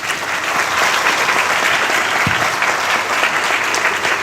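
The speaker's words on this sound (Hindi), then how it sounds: "सबसे पहले एक अच्छी ताली यीशु के लिए" A crowd applauds loudly and continuously, dense clapping filling the whole stretch without pause.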